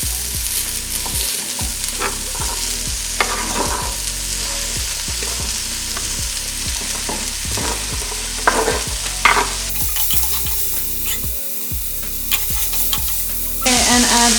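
Cauliflower sizzles steadily in a hot soup pot while a utensil stirs and scrapes it in a repeated rhythm, close and fairly loud, with no talking.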